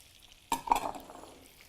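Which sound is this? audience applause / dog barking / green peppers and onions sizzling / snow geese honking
green peppers and onions sizzling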